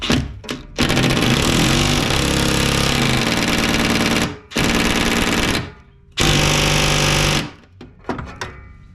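Impact wrench hammering on the bolts of a Poulan mower blade deck: loud, rapid rattling bursts in several runs, a short one then three long runs broken by pauses, with the tool running alone and no talk over it.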